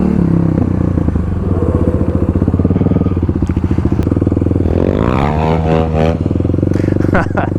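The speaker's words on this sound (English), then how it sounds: "Alright, let's get some practice braking in here" A Kawasaki KLX351 dirt bike on new Tusk Dsport tires braking on a gravel pit, its single-cylinder engine loud and close, rumbling and revving down with gravel clatter and scraping as it slows.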